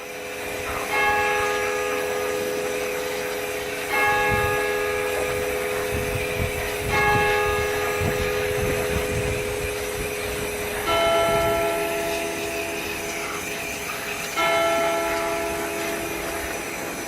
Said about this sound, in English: just as the bell in the tower struck 2 p.m.